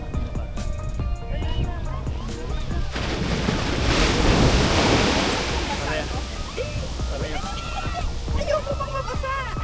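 Sea surf on the beach at Dingalan, Aurora, a steady broad wash of breaking waves that swells to a louder crash near the middle, with voices faintly underneath.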